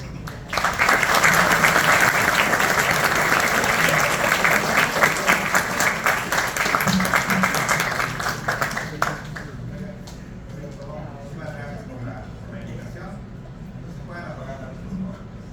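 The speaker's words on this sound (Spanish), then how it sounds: "un aplauso por favor" An audience at a quantum chemistry lecture breaks into loud, sustained applause for a guest speaker, a thick wash of many clapping hands that fades after several seconds into quieter room murmur.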